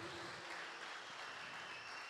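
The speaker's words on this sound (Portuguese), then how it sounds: "Dê um aplauso a Ele." Brief burst of congregational applause during a Portuguese-language celebration service in church, dense and continuous clapping from many people at a moderate distance.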